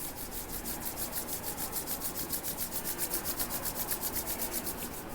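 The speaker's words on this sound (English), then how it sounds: "rub your hands" Palms rubbing together briskly in a steady back-and-forth rhythm, about five strokes a second, a close, dry swishing friction with no talking.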